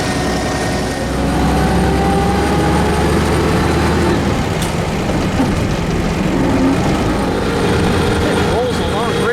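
A 1913 Locomobile Model 48 motors along at about 30 mph in third gear, giving a steady low engine drone and road rumble throughout, with people talking over it.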